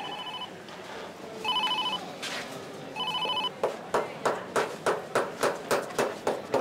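A telephone rings in repeated electronic bursts, then the ringing gives way to a fast, evenly spaced series of tapping clicks as it is answered, with no talking.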